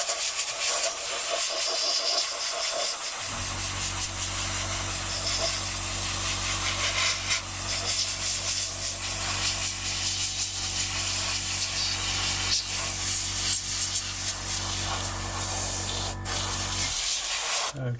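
An airbrush sprays paint onto a 1/48 Italeri Seahawk model kit, a steady close hiss lasting the whole stretch with a low compressor hum running underneath for most of it.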